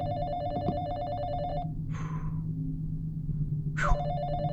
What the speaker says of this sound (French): le téléphone sonne maintenant